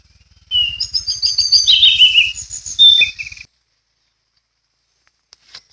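Wild forest birds answer a phone-played lure call at dawn with a burst of bright chirps and whistled song notes lasting about three seconds, fairly close, then silence with a few faint ticks.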